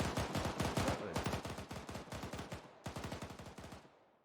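Rapid automatic gunfire from a turret in a military-simulation video game, with dense bursts of shots in fast rhythm that continue through a brief gap and then taper away.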